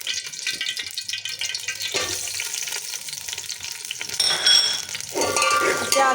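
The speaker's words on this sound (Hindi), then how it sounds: "घी डाल देंगे और इसके साथ ही हम जो है इसमें प्याज डाल देंगे।" Onions dropped into hot ghee for matar pulao, a steady hiss that surges louder as more goes into the pan, with occasional clinks of a utensil and no voices.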